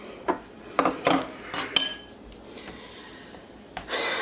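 Ingredients for meatloaf, including finely diced onion, being mixed in a very full bowl, with a few scattered clinks and knocks of a utensil against the dish, fairly close and otherwise quiet.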